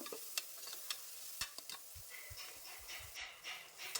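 Sliced onions frying in oil, a soft, low sizzle with scattered stirring clicks and scrapes of a spoon in the pan, fairly faint and without talking.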